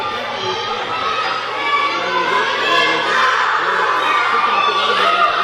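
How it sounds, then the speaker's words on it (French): Spectators at a winter tournament game chant, shout and cheer for their team, a loud, continuous crowd roar with raised voices and whoops throughout. "On scande. On crie pour son équipe du côté des spectateurs."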